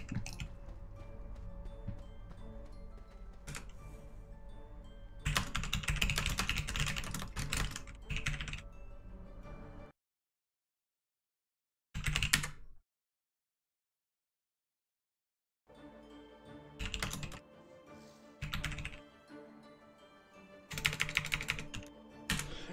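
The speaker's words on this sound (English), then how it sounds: "It sucks that you guys can see me typing" Keys on a computer keyboard clack in quick bursts of typing, close to the microphone, separated by stretches of silence and a couple of short isolated taps.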